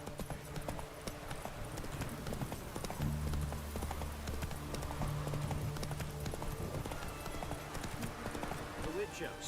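Hooves of Roach, a horse in The Witcher 3, clip-clop in a steady trotting rhythm throughout, moderately close, while a voice speaks over them.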